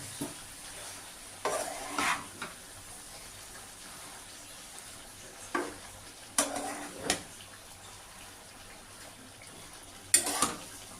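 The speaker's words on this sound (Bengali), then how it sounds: "এবার আস্তে আস্তে শাপলার সাথে মশলাগুলো মেশাবো" Spices being stirred into water lily stems with prawns in a pan, a few scattered bursts of spoon scraping and soft sizzling separated by quiet gaps, fairly faint and close.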